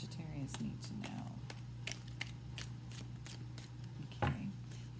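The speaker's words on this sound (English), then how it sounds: "let's get the other half of these cards because I can't shuffle both halves at the same time" Tarot cards shuffled by hand, a quiet run of soft, regular riffling and flicking taps with a low steady hum beneath.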